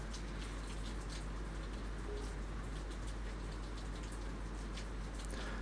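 Steady rain patters on a veranda in the video game Forza Motorsport 2, a dense continuous drizzle with occasional distinct drops and a faint low hum beneath.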